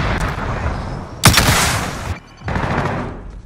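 A rocket launch in Call of Duty Warzone: a sudden loud whooshing blast that roars for about a second, dropping out briefly before a rumbling tail returns, with shooting-game ambience beforehand.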